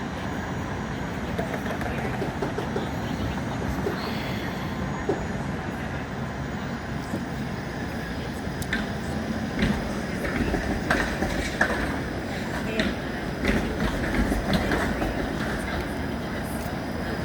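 A Toronto streetcar rolls past on city tracks with a steady loud rumble and scattered rail clicks and clacks, while people talk faintly in the background.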